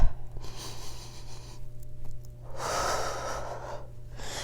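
Steady in-and-out breathing during a classical Pilates level 1 exercise with knees in tabletop, a long audible exhale rising midway over a low constant hum, no talking.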